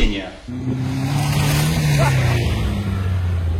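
An old ZAZ Zaporozhets car engine drones close by as the car drives, a steady low hum rising slightly in pitch before easing off, heard alone.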